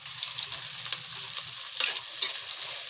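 Onions and green chillies frying in a pan for egg bhurji, a soft steady sizzle with faint scraping of a spatula stirring, close but quiet, no talking.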